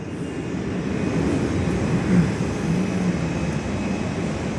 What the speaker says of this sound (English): Another 737-800 arrival.